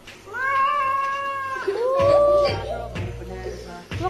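A pet cat yowls loudly while being bathed, long wavering drawn-out cries close up, with splashing and handling noise around the later wails.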